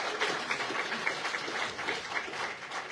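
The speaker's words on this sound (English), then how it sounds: "Please give Ms. Samoa Victoria another round of applause." Audience applause at the Miss Samoa 2022 pre-pageant, a steady, moderately distant patter of clapping hands that continues without pause and with no talk over it.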